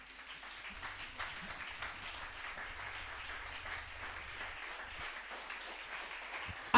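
A church congregation breaking into sustained applause during a sermon, a steady wash of many clapping hands at moderate distance lasting throughout.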